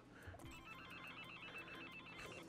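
A video-game telephone rings with repeated rapid electronic bell trills, faint and steady over a low background hum.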